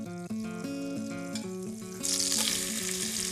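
Butter sizzling as it melts into hot lard in a pan, a soft steady fry that swells louder and hissier partway through, heard under gentle background music.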